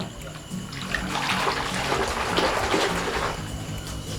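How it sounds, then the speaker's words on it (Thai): Water sloshes and churns steadily while Fab detergent is whisked into foam by hand for washing vintage shirts, a continuous close splashing and swishing with no talk. "ตีให้มันเป็นฟองนะฮะ มาตีให้มันเป็นฟอง"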